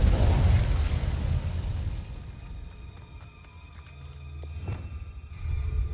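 Incendio fire spell cast in the video game Hogwarts Legacy, a loud roaring burst with dense rumble that sustains and rolls on, dipping briefly before swelling again with sharp crackling pops near the end.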